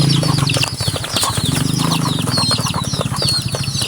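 Pet pigeons move about and flap their wings close by in a loft, with busy wingbeats and rustling mixed with steady cooing and chirping calls throughout.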